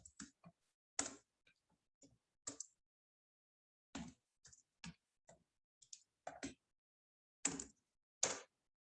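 Computer keyboard typing heard as sparse, sharp clicks and taps in irregular short bursts, close and isolated against near silence.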